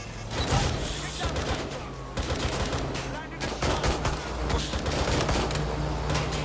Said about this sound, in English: sounds like gunfire